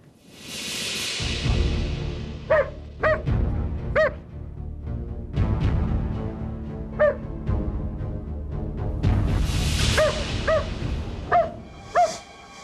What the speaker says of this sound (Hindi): ये यहाँ क्यों भौंक रहा है?